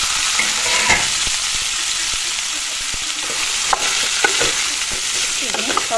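Browned onions with chili powder for an egg curry crackle and hiss in a hot pan, loud and close, with intermittent utensil scrapes and taps from stirring.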